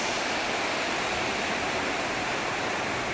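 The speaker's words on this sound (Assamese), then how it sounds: "নদীৰ দৰে পানী বৈ গৈছে" Floodwater from a heavy storm in Upper Assam rushes like a river with a constant loud roar that fills the whole stretch, and no voices.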